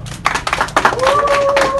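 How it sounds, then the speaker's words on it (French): A crowd claps at the ribbon-cutting opening of BK Création, a boutique in Angré Nouveau CHU, with dense close applause mixed with voices. A steady whistle-like tone rises over the clapping partway through. "On applaudit très fort."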